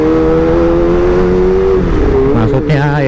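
Motorcycle fitted with a Pro Speed Black Shark silencer exhaust being ridden, its loud steady engine drone holding pitch then dipping and rising again as the throttle changes near the end, close and continuous throughout.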